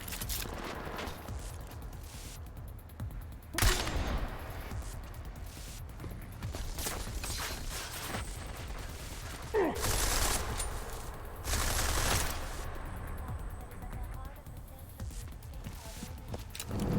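Gunfire in the video game Deus Ex: Mankind Divided, with several sharp shot bursts scattered over a busy, continuous game soundscape of rumble and clatter at moderate loudness.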